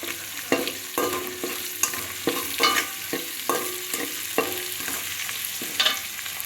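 Onions sautéing in a pan for sambar, with a spoon scraping and stirring in steady repeated strokes about every half second over a soft continuous sizzle, close and clear with no talking.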